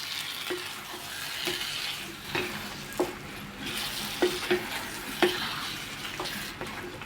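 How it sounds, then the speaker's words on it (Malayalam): Yogurt being stirred into a sizzling chicken gravy in a pan for Mughlai chicken, a soft constant frying hiss with spaced scraping knocks of the spoon every second or so, up close and without talk. "ഇനി ഇത് നന്നായിട്ട് ഇളക്കി കൊടുക്കാം."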